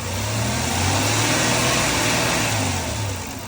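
Car engine revving up to around 2,000 RPM during an engine lab test, a loud steady mechanical drone that swells and then eases slightly, with no talk over it.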